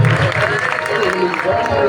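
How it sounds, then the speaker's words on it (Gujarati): Audience at a Gujarati dayro folk performance applauds to welcome a guest arriving from Dwarka, steady clapping mixed with crowd murmur and a voice over it, fairly loud and sustained. "આપણે જોરદાર તાળીઓથી અમને વધાવીએ"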